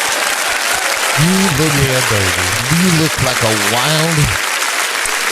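Loud, dense applause and cheering from a nightclub crowd on Studio 54's opening night, a continuous roar while someone talks over it.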